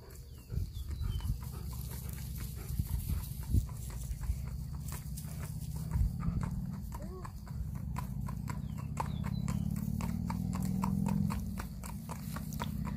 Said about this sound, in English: Here comes Picasso walking down the driveway.